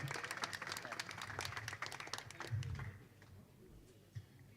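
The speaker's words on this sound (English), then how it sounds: "can we give him an applause anyway for the beautiful backflip?" Audience applause at a nanocopter challenge after a drone's backflip, steady clapping that fades out after about three seconds, with a single loud tap near the end.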